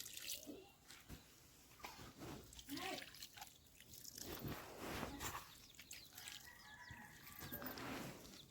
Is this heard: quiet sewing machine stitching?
no